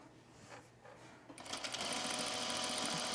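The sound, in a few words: sewing machine stitching pants edge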